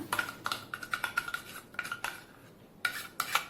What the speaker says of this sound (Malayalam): ഒഴിച്ചു കൊടുത്തതിന് ശേഷം നന്നായിട്ട് അതൊന്ന് മിക്സ് ചെയ്ത് എടുക്കുക